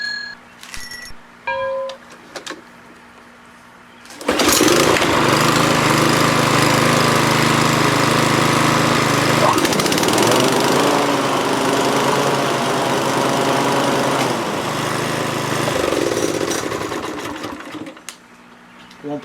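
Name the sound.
Craftsman M430 lawn mower starting, blades engaging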